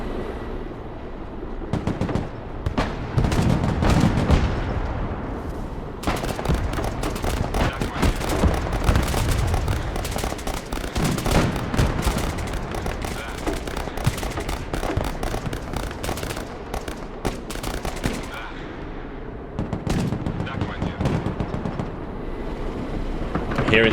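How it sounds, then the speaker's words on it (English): Anti-materiel rifles firing in the video game Broken Arrow, heavy repeated gunshots and battle noise in dense irregular bursts under game sounds, with a player talking over parts of it. "Hearing these anti-material rifles firing is so cool."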